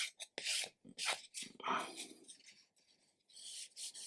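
Sandpaper of 400 grit rubbing against a plastic 1/200 scale ship model part, heard as short, close rasping strokes in uneven bursts with brief pauses between them.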